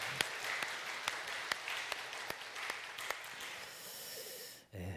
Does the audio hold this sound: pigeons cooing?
no